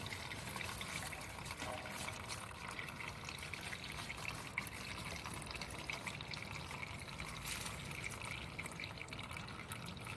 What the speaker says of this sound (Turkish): Yedek depoyu dolduralım abi.